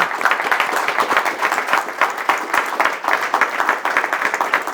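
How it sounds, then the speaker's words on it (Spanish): A lecture audience claps steadily and evenly, fairly close and loud, in a sustained round of applause for a speaker at a history conference, with no talking over it. "Darle un aplauso, ¿no?"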